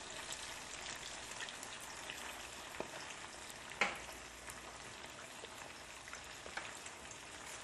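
Pork front leg meat blanches in a generous pool of hot oil, giving a soft, steady sizzle and crackle throughout, with one brief louder clatter midway.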